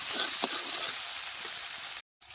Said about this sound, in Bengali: বাদাম বাটা দিয়ে বেশ ভালো মতো কষাই নিছি তেলও কিন্তু ছেড়ে দিচ্ছি